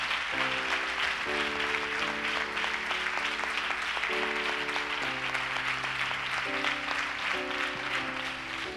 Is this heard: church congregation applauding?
yes